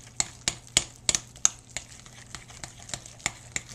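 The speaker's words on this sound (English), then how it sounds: "all you're gonna do is just mix the whole thing up" Rhythmic clicking and tapping of a spoon stirring thick gluten-free hamburger bun batter in a bowl, steady strokes about every third of a second, close and fairly quiet.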